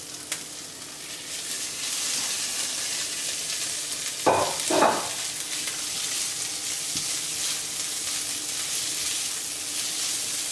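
Smoked bacon lardons frying with onion in a pan, a steady close sizzle with a brief louder crackling burst partway through; no talking.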